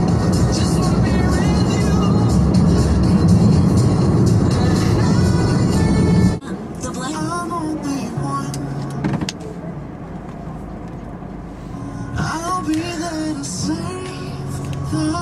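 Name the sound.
getting into and riding in a car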